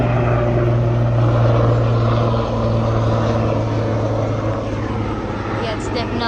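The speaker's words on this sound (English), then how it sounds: "Yeah, it's definitely a police helicopter." A police helicopter flying overhead gives a steady, loud drone with a low rotor hum that runs through the whole stretch, while voices talk over it.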